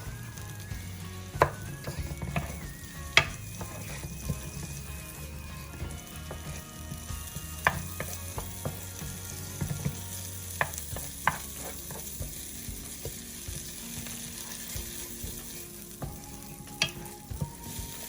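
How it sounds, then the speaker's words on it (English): Ginger garlic paste frying in butter in a pan, giving a steady low sizzle with scattered scraping clicks from a spoon stirring the paste, close and continuous throughout. "Now I'll be adding some ginger garlic paste to the butter. Give a quick stir."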